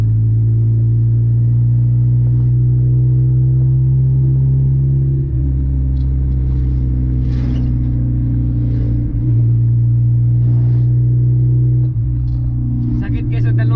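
A car engine fitted with a chambered muffler gives a deep, loud, steady rumble that swells slightly now and then, with faint voices in the background.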